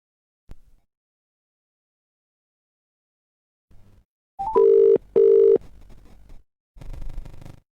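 Steady electronic phone tones sound while a call connects, two clear sustained beeps in a row between brief clicks and rustles, fairly loud and close, with no one talking.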